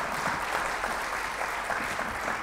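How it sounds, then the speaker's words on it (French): A church congregation applauds the worship band after a service, steady dense clapping throughout at moderate level with no talk over it. "On peut les applaudir bien, bien fort."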